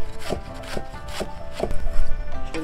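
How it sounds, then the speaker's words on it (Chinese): Pickled cabbage being chopped with a knife on a board for dumpling filling: steady, close thuds about every half second, with rubbing scrapes between strokes and no talk. "酸菜也剁碎"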